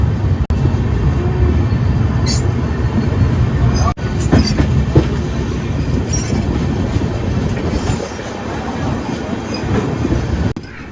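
The Brahmaputra Mail pulls out of Prayagraj Junction, heard close up as a continuous heavy rumble with clattering wheels and occasional high squeals from the rails.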